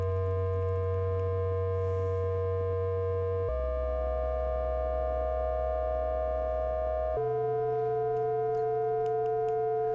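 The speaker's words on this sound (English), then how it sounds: "austere FM sound." Austere FM synthesis tones hold pure, steady sustained notes that shift pitch in three long stages, even and moderately quiet, with no voices.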